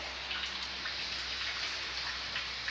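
Steady rain falling outdoors, an even, close hiss of drops pattering on surfaces with no pauses.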